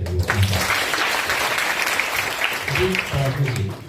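Applause from an audience at a political speech event, a sustained broadband clatter of clapping lasting the whole moment, fairly loud and close, with voices and some talk mixed underneath.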